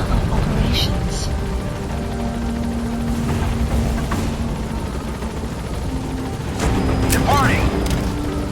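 A helicopter in a video game climbs and flies away, its continuous rotor and engine drone mixed with game effects, a few bursts, and rising electronic tones.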